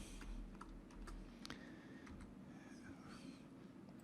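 Someone types an attorney's name into a California spousal property petition form on a computer keyboard, producing faint, scattered key taps over low background rumble with no clear talk.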